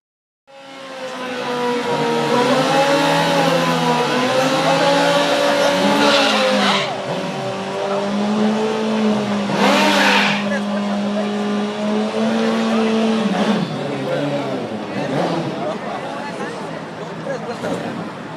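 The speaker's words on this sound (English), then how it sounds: "Americans like to rev up their cars as a way to show off their engines" Drag racing cars revving at Irwindale drag strip on a Thursday night, engines droning and rising in sustained loud tones with tire noise, close and continuous, with talk over the roar.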